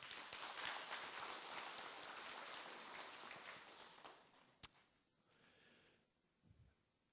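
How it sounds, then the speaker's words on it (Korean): Sustained applause from a seated audience at a civic lecture, dense clapping that fills the first four seconds and then thins out and fades, with a sharp single knock partway through. "여러분들 서로 축하의 박수를 보내주십시오"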